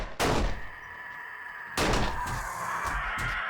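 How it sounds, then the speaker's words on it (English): Two sharp pistol shots in the video game 7 Days To Die, about a second and a half apart, each a loud percussive crack with a lingering ringing tail and no talk over them. "switching to my pistol"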